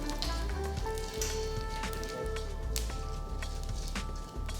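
Urad dal, cumin seeds and mustard seeds sizzle and crackle in hot oil as a steady, close hiss with scattered pops, heard alone without talk.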